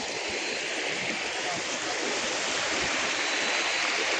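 River water flowing through the Gir forest, a steady, dense rushing wash that stays close and even throughout, with no voices over it.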